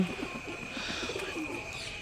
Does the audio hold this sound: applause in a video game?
no